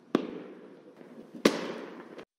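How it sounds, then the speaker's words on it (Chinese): AI-generated fireworks sound effect: two sharp explosive bangs, each followed by a crackling, sizzling tail that fades, ending in a final small pop, with no voices. "输入 Fireworks 提示就可以生成烟花爆竹的音效"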